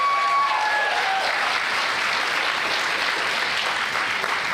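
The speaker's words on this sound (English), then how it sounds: "Can we give them a big round of applause, please," An audience applauds at the close of a school musical, a steady, dense wash of clapping from a full room that continues loud and unbroken throughout, with only a faint tone briefly audible at the start.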